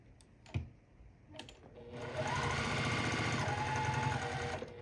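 A sewing machine stitches patchwork quilt pieces, starting after a couple of light clicks and then running in a fast, steady whirring stitch for about three seconds, close and fairly loud, with no talking.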